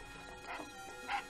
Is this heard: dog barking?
yes